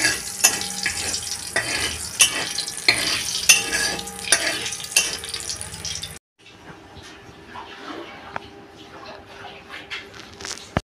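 Bay leaves, dried chillies and whole cumin fry in hot oil in a pan for chicken pulao, a crackling sizzle broken by the scrape and clink of stirring, which then settles to a quieter fizz.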